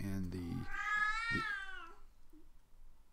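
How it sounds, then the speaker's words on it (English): A house cat howls in a long, loud drawn-out wail, rising and falling over about two seconds, preceded by a voice and followed by quieter indoor noise. "That damn cat always howls during a video."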